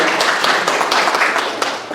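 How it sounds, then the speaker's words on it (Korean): A church congregation applauds to welcome back a returning deaconess, with dense, close clapping filling the space at an even level, sharp hand claps standing out, before it starts to thin toward the end. "박수 환영하겠습니다"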